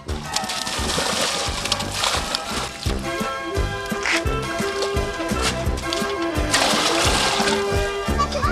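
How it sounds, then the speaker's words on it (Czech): Water splashes and sloshes steadily as volunteer firefighters fill buckets during a spring bonfire event, using an old four-bucket hand pump. A loud, continuous pouring and splattering runs throughout without pause. "Tak, družstvo voda do kýblu teď."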